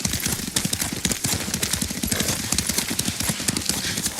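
Horse hooves clip-clop in a quick, steady galloping rhythm while riding in the video game Ghost of Tsushima, close and continuous, with some faint game sound beneath.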